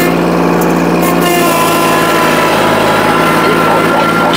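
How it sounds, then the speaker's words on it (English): A tractor engine runs steadily at close range as the tractor is moved out of the way on a farm, a continuous loud mechanical drone with a few brief higher bursts near the start. "So what I'm gonna do is move this tractor out the way for a little bit."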